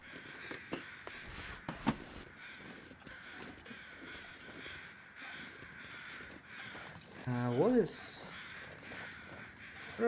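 Crows from the video game Wintermute, giving a few scattered caws over a muffled background of game ambience, then a brief tonal sweep near the end.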